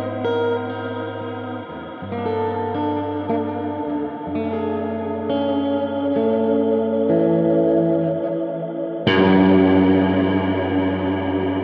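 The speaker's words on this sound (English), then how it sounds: "that's a massive, large reverb" A guitar runs through a Flamma FS02 reverb pedal set to a massive, large reverb, its sustained chords blooming into long washy tails that swell louder near the end.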